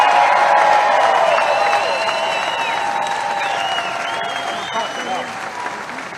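A large Labor Day rally crowd in Milwaukee, Wisconsin, bursts into loud, sustained applause mixed with cheering and whistles, slowly easing off but still strong throughout.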